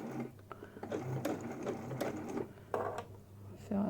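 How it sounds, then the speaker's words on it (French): A sewing machine fitted with a zipper foot stitching along a wire for a homemade face mask, running in a steady, close, rapid mechanical whirr for a few seconds. "c'est pour ça que le pied pour zip est pas mal. Ça permet de coudre au plus près en fait."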